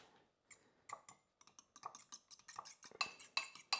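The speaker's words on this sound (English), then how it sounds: "I am whisking eggs" A fork whisks eggs in a bowl, producing quick metallic clinks and taps against the sides that start sparse and speed into a dense, rapid rhythm, close and fairly quiet.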